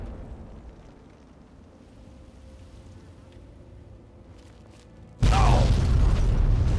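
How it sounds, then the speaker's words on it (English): Car exploding in Fallout 3: a low ambient hum gives way to a sudden loud, sustained blast and roar late in the clip. "That car explosion, I think, is usually what kills me the first time."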